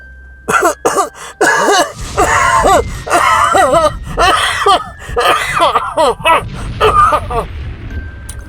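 A voice imitates a burger stall vendor's harsh, bad cough: a string of loud, close, rasping hacking bursts with throat-clearing and wheezy gasps in between.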